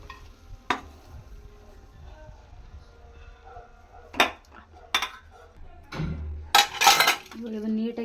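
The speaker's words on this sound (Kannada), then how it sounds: "ಇದು ತುರಿದು ಇಟ್ಕೊಂಡಿರೋ ಆಲೂಗಡ್ಡೆನ ಇದಕ್ಕೆ ಮಿಕ್ಸ್ ಮಾಡ್ತೀನಿ" A spoon stirring grated potato into fried onion in a pan, with sporadic scrapes and clinks against the metal pan, louder bursts toward the end and faint sizzling beneath.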